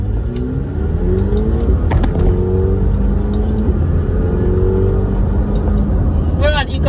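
A McLaren 720S accelerating gently on light throttle, its engine holding a smooth rising drone heard from inside the cabin, with a brief chirp near the end.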